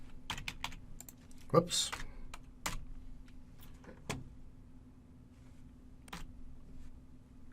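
Scattered keyboard typing while a desktop computer is in use, a few separate bursts of keystrokes with pauses between them, fairly close, with a brief spoken exclamation mixed in.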